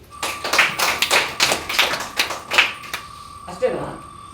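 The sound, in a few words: audience clapping for a lucky draw winner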